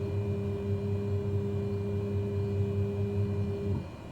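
Electric flap motor on a Black Square Analog Caravan in a flight simulator runs toward the 20 setting, a steady whining hum under the idling cabin rumble that cuts off cleanly near the end.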